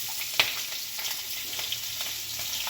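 Green chilies sizzling in hot oil with cumin, turmeric and curry leaves: a steady, close hiss of frying with one sharp clink of a utensil near the start, and no talking.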